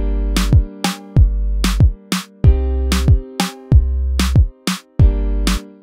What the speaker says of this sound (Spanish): También vamos a darle un poquito de cuerpo a nuestro kick